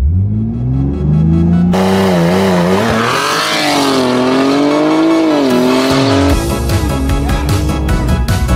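A BMW M3 Competition launches hard in a race, its engine revving loud and close as pitch climbs through several gear shifts, with a brief tire chirp and the car pulling away strongly.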